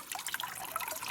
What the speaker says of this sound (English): The water is circulating.